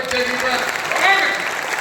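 Hindi poetry event crowd applauds a poet, loud close clapping running throughout as a voice talks over it.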